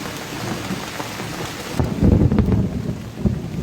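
Heavy rain pours down with a dense, steady hiss, joined by low rumbling thunder midway.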